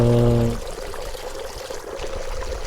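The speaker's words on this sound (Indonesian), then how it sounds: "Ada suara gemericik air sebelah kiri" Water trickling and splashing at a water control post with a hose along a mountain trail, a continuous close rushing wash after a brief low hum at the start.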